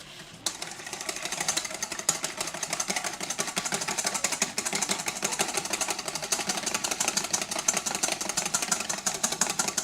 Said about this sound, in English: Now we whisk until this forms stiff peaks.